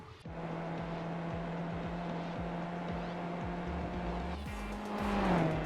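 Race car lapping a track in a sim racing video game, its engine a steady loud drone with a sharp shift in pitch near the end as it accelerates, heard alone without talk.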